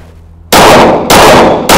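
A MAC 50 service pistol firing, with three very loud, close shots in quick succession, each a sharp blast followed by a brief ringing decay.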